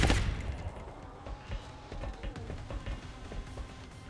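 Bursts of rapid gunfire in the video game XCOM: Long War crackle and pop in quick succession, fairly faint and compressed, with a sharp blast at the start.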